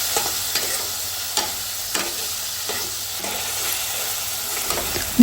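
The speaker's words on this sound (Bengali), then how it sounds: "এখন আমরা নেড়ে চেড়ে সব মশলা গোছের সাথে মিশিয়ে নেব" Meat with ginger paste, turmeric and chili is stirred in a pan, a soft hiss of frying running underneath a steady series of scraping stirs, regular and fairly close, with no voices.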